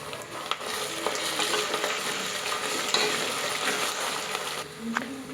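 Chicken biryani masala frying in oil with kasuri methi just added, a steady close sizzle broken by a few spatula scrapes and taps against the pan, with no speech.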